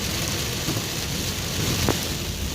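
Steady rain pounding down during a lightning storm while driving home, with a low rumble of thunder rolling under the hiss of the downpour and no voices.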